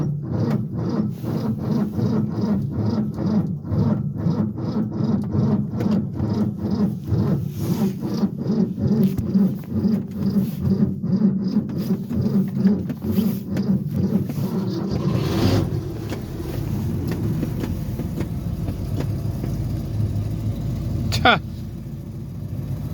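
A 1967 Ford F100 pickup truck engine cold-starting after sitting a few days, cranking in a rapid rhythmic chug before catching into a steady rough idle, close and loud throughout.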